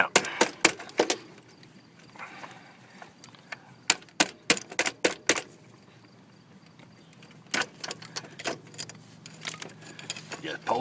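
A motorcycle chain link on a 500 scrambler being pounded out, giving sharp metallic taps that arrive in irregular clusters, loud and close, with quiet gaps between bursts.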